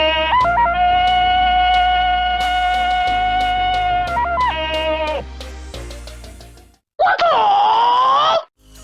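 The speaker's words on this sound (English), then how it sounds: "it's been the representative cry of Tarzan to this day" The famous Tarzan jungle yell from the films, a loud sustained ululating cry with warbling breaks that holds for several seconds, falls off, then returns in a short, higher, wavering burst.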